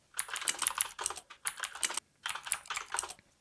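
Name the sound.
typing a docker command on a computer keyboard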